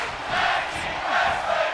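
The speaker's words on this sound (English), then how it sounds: "The crowd love what they're seeing here." Arena crowd in the WWE 2K24 wrestling video game during a match: a dense, steady roar of cheering that swells slightly in the middle of a brief moment, with no commentary over it.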